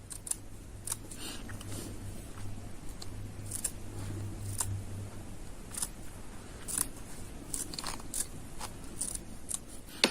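Old nylon rope being cut with scissors in a run of sharp, separate snips, close and fairly quiet, over a low background hum.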